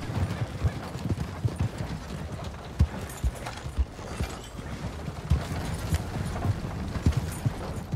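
Rhythmic horse hooves clip-clop in a horror video game, a fairly faint, steady trot of irregular thuds that carries on throughout with no talking.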